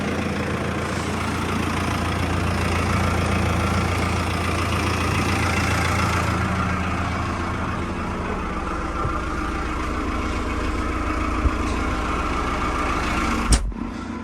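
A TR5110 diesel tractor engine idles steadily in cold weather with a low, even rumble throughout, ending with a brief clunk near the end.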